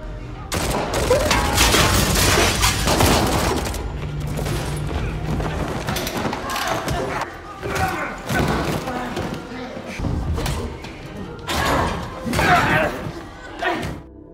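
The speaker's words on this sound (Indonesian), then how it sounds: "Kemudian terjadilah baku tembak antara kelompok si pengedar melawan Karina dan Kovic" Gunfire in an action-film shootout between a drug dealer's gang and two fighters, dense bursts and heavy thuds layered over a loud music score, with shouted voices mixed in.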